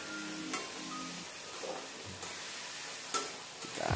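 Tofu stirred through chili sauce in a pan: scattered scraping strokes of a spatula with a soft sizzle underneath, quiet and close, no voices.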